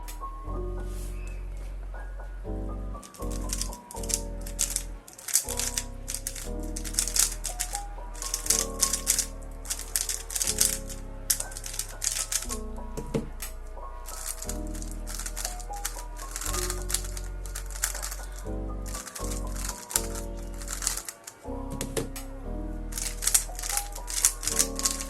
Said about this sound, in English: I'm going to be comparing the sound of 4 cubes, the Tornado V2, the WRM 2020, the RS3M and the original WRM.